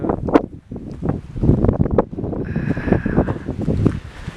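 Gusty wind buffets the microphone in rough, low rumbling bursts throughout, with a faint steady whine in the background.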